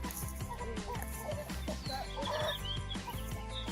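Chickens clucking near a chicken house used for composting, several birds close by in busy, overlapping clucks and squawks, with a loud steady background hum underneath.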